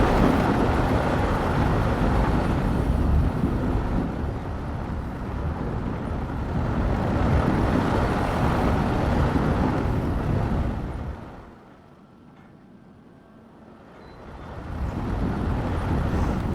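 A giant roller coaster runs in Planet Coaster, giving a loud, steady rushing rumble that holds for about eleven seconds, drops away briefly to near quiet, then swells back up.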